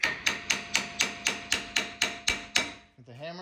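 A hammer taps brake calipers on a 2017 Chevy GMC 1500 in ten evenly spaced metallic strikes, close and crisp, each ringing briefly before the next, followed by a short voice at the end.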